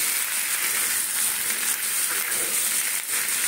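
Chickpeas sautéing with spices in a pan, giving a dense, steady close sizzle with faint stirring, no talk.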